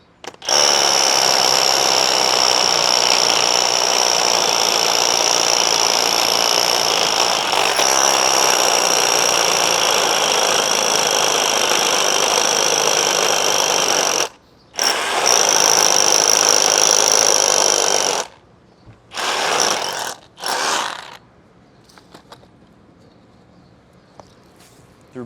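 A Ryobi SDS-Plus rotary hammer with a 1-inch bit drills into hardened exterior-grade brick, giving a loud, continuous hammering whine with a brief stop midway, then short bursts before it falls quiet.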